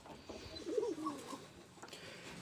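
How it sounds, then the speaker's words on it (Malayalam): Fantail pigeons in a farm loft give a single soft, warbling coo close by, then quiet rustling ambience. "ഇത് ഞങ്ങളുടെ പ്രാവും കൂടാണ്."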